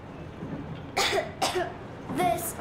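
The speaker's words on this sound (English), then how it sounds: "I have this cough." A child coughs several times, close and clear, over a low steady background hum, in the video game Metro Exodus.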